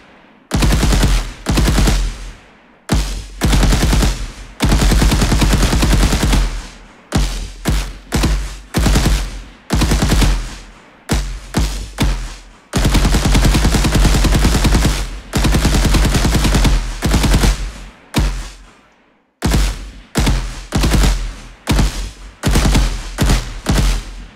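Loud automatic gunfire from a third-person shooter game built in Unreal Engine, with spent shells ejecting, comes in long sustained bursts separated by brief silences, dense and rapid throughout.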